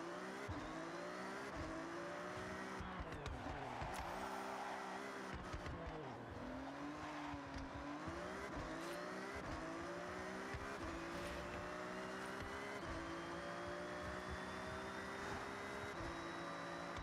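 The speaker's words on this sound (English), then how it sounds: "just take the Ferrari off road, no worries" A Ferrari driven off road in Forza, its engine droning and rising and falling in pitch with gear changes, with tire noise, near and steady throughout.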